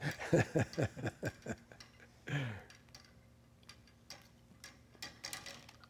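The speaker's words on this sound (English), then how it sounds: "was this a comforting sound, the ticking of your clock?" A wind-up clock kept in a prison cell ticks in a rapid, regular series of near, distinct clicks early on, followed by a single louder burst and then quieter scattered ticks against a faint steady hum.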